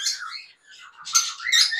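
Conure parrots at a bird market in Mirpur give a few sharp, high squawking calls in short bursts, close and fairly loud, with a brief quiet gap between them.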